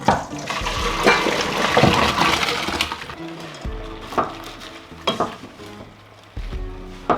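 Pasta is dropped into a pot of salted, boiling water in a countryside cabin kitchen, bringing steady bubbling and sputtering with a few sharp clinks and splashes near the end. No one speaks.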